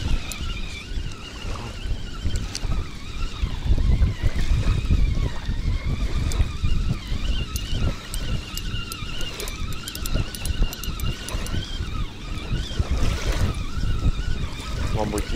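Strong gusting wind buffets the microphone in heavy, uneven rumbles throughout a morning fishing trip on sandy shores, with a voice speaking under the roar.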